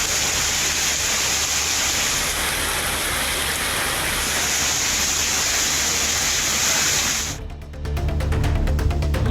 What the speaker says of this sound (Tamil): மாலை நேரத்தில் பலத்த மழை பெய்தது